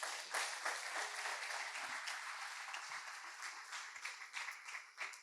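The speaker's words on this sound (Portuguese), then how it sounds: "Dá uma salva de palmas para Jesus." Applause from a church congregation during a Portuguese-language spiritual deliverance service, a steady wash of many hands clapping at moderate distance, sustained for several seconds with no talk over it.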